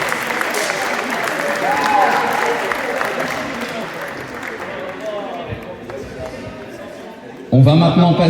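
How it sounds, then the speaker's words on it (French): An audience at a tournament prize-giving ceremony applauds the winners, with sustained clapping that gradually thins out before a voice cuts in near the end. "Et on peut les applaudir encore"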